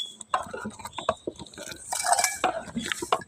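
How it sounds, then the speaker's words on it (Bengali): Payesh, a rice pudding enriched with ghee, being stirred in a cooking pot, giving scattered scrapes and light clinks of the utensil against the pot, with voices talking nearby. "পায়েসের মধ্যে ঘি দিয়ে দিতেছে, এই যে লাইড়ে চেড়ে দিতেছে"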